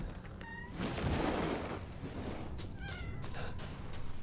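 A cat meows a couple of times at moderate distance over a steady ambient background in Resident Evil: Village, with a brief louder rushing noise in between.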